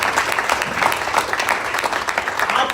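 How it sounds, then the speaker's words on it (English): An audience gives a round of applause at a song debut event, steady clapping from a crowd for a few seconds, fairly close and even. "we can give them a good round of applause"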